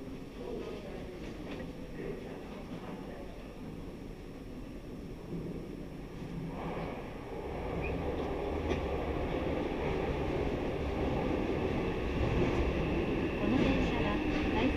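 A Yokohama Municipal Subway 3000S train runs with a steady low rumble of wheels and motors, the level swelling slightly about halfway as the car picks up speed.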